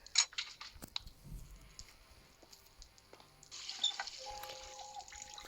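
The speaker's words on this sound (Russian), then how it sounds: "Ведро нам нужно, чтобы в него налить воды." Water pouring into a bucket in the video game Метель: faint clicks and handling noises first, then a quiet, steady hiss of running water that continues to the end.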